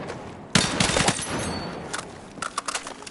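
Bursts of M277 carbine fire in the video game Battlefield 6, a sharp volley up front tailing off, then a few short separate shots near the end.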